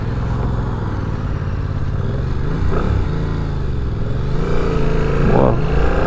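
Yamaha MT-07 motorcycle engine, a 2025 A2-licence version, idling and blipping lightly through a slow U-turn, a steady close low rumble with small throttle swells, with talk over it.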